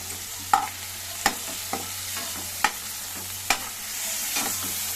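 Fenugreek leaves and onions fry in a pan with tomato alongside, a continuous sizzle broken by several sharp scrapes of a spoon stirring at uneven intervals.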